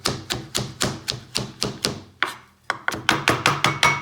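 Crisp, rapid knife strikes on a cutting board as fresh dill is chopped finely, about a dozen sharp taps in quick rhythm, a brief pause, then another fast burst, close and loud with no talking.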